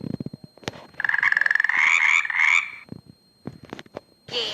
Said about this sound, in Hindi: मेंढक